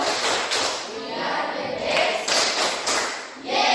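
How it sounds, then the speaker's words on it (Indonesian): Students in a junior high school classroom clap hands together in a few rhythmic bursts, fairly close, with some voices around them. "Tepuk tangan dulu"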